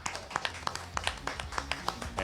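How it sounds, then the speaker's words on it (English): A press conference crowd gives a short, sparse round of clapping for a Gilas Pilipinas basketball head coach, with a few distinct hand claps at a steady pace over a soft room background. "How about a warm round of applause for Gilas Pilipinas head coach"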